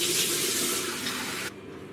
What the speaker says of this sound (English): and then I just rinse off with some lukewarm to cold water